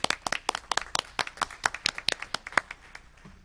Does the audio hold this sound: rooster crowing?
no